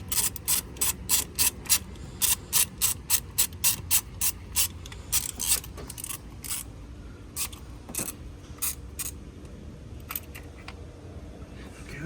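Ratchet tightening a bolt on an Acura RSX Type S, a rapid run of close, crisp clicking strokes that slows and thins out toward the end, with brief speech.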